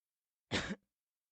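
A single short cough, close and clear, against silence.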